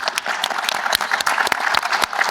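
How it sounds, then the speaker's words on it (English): Audience at a Humans to Mars Summit applauds the tech staff, with brisk scattered clapping from a moderate crowd that stays steady for a couple of seconds. "I want to take 2 seconds to applaud our tech staff here."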